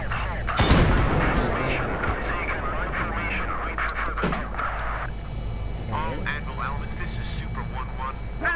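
Bombs exploding and gunfire in the Battlefield 3 tank mission Thunder Run, with one sharp, loud blast near the start followed by rumbling combat noise, while voices talk over it throughout.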